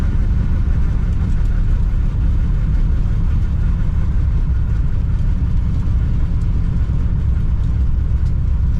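A 1960 Pontiac Ventura hardtop, revived after 24 years off the road, drives along in second gear with a steady, loud low-pitched engine rumble and drivetrain drone that holds unbroken throughout.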